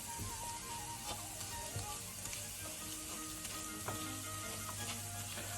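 Arborio-style rice for risotto alla milanese toasts in a hot pan with a continuous close sizzle, punctuated by soft scraping taps as it is gently stirred.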